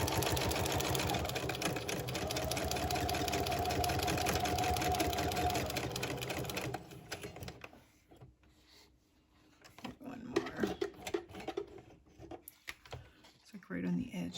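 A sewing machine running steadily for several seconds, stitching a zigzag and then a straight stitch, a fast even whirr that stops before a few short starts and handling clicks, with a voice speaking now and then.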